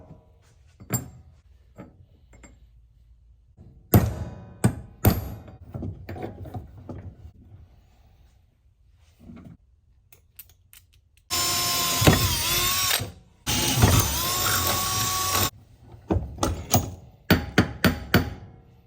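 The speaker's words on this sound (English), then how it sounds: "So let's freaking drill it." Power drilling into a part for a custom off-road buggy build in a workshop, with scattered knocks and handling clatter followed by two sustained loud bursts of drilling, then more tapping and tool noise.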